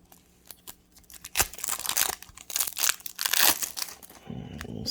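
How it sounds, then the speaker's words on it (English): Tearing open a pack of Epic Jungle Kickstarter cards: loud, irregular crinkling and ripping of plastic wrapping in close bursts, with short pauses between, ending in a softer rustle. "So I'll open this other pack."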